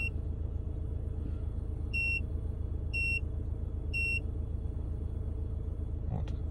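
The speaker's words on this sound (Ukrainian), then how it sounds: "всі системи в автомобілі зразу пікають" Three short electronic beeps from a Peugeot 5008 2.0 HDi's systems as a diagnostic tool connects, sounding at even one-second intervals over a steady low engine hum and faint background chatter.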